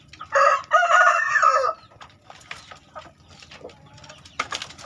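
A rooster crows loudly in two long calls up close, then hens cluck and murmur softly in the background with scattered farmyard noises.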